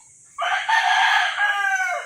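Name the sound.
chickens clucking and rooster crowing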